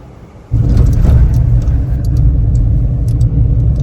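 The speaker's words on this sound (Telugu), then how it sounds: "సో మొత్తానికి నేను పంచ్ అయితే బయటికి తీసుకొచ్చాను. పంచ్ టెస్ట్ డ్రైవ్ చేస్తున్నాను." A Tata Punch car on a test drive gives a steady, close engine rumble and road noise that rises sharply after a quiet start and holds for the rest of the stretch, with no talking.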